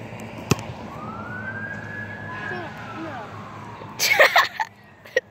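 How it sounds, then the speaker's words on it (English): A fire truck siren wails outdoors near a small soccer goal, one long rising and falling tone passing at moderate distance, followed by a burst of close clatter and thumps. "So we're gonna wait for the fire truck sirens. It's a little loud."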